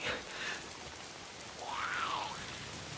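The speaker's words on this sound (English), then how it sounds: "If it's not the freaks, it's the goddamn rain." Steady rain falls in the open-world zombie survival game Days Gone, a constant hiss of drops on surfaces with no speech over it.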